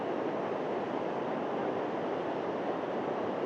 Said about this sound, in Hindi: आप देख सकते हैं, आप सुन सकते हैं पानी का बहाव